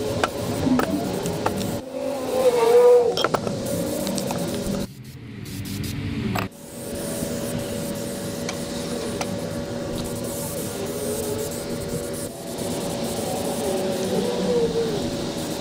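CRC Evapo-Rust Rust Block aerosol sprayed over dried, once-rusted tools such as a vise, steady rest and cast iron cookware: a steady close hiss broken by two short pauses, with a low hum underneath.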